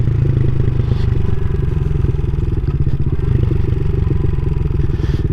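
A MotoCult Stage 4 CSC SG250 motorcycle idles on a chilly morning, its single-cylinder engine thumping steadily and loudly at close range with a constant, slightly clattery beat and no rise in revs.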